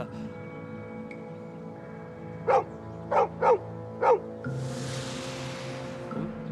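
A dog barks four times in a short, evenly spaced series, fairly close, followed by a rush of noise and a soft hum in the background.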